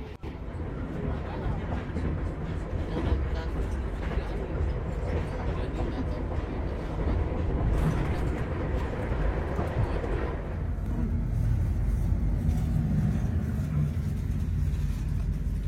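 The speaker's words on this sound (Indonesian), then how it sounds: "perjalanan naik kereta api Tegal Bahari kali ini" Continuous low rumble and rattle of the old executive-class Tegal Bahari passenger train rolling along the rails between Tegal and Jakarta, heard from inside, with a steady mechanical drone throughout.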